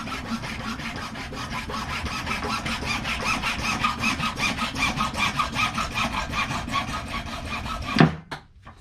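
Steady rapid back-and-forth hacksaw strokes cutting plastic, close and continuous, a rasping cut that stops abruptly near the end.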